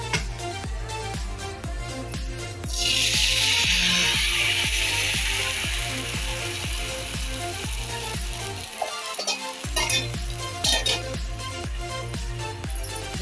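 Ghavne rice-crepe batter hits a hot pan with a broad hiss that swells and then slowly fades. Steady, rhythmic mechanical ticking carries on throughout.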